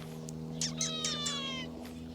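An old cat gives a drawn-out, wavering meow close by, over a steady low background hum.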